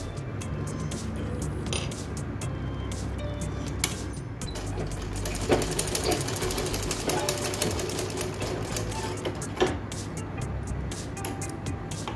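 Domestic sewing machine stitching around a blouse neckline, folded fabric piece fed under the needle; steady rapid mechanical clatter with clinking ticks, running continuously, close and fairly loud.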